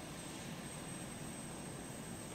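Airplane engine in flight in the Arma 2 video game: a steady, dense drone that holds level and loud for the whole stretch, with no talk over it.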